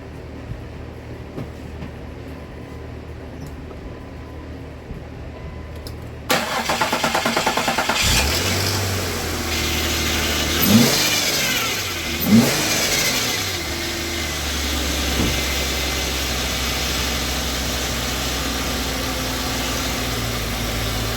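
An Infiniti M35 starts up after a misfire repair: a quiet lead-in, a sudden cranking catch, then the engine revs up twice and settles into a steady, even idle, recorded close with no talking.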